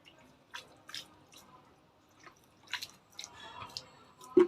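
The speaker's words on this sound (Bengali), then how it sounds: "এই মাটিটাকে এই হাইড্রোজেন প্যারক্সাইডের জল দিয়ে আমি ভিজিয়ে দেবো আগে।" Hydrogen peroxide water soaks into potting soil with scattered wet drips and soft squishing trickles, close and quiet, in short irregular spurts.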